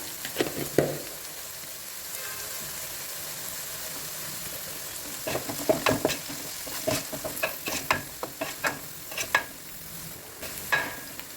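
Egg fried rice cooks in a pan under a steady sizzle, and in the second half a run of clattering spoon-and-pan strokes and scrapes sounds as the stir-fry is tossed and mixed.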